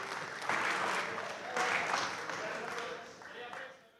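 An audience applauds the Generalitat government on a Catalan castells talk show, with steady clapping that swells in waves and fades out near the end.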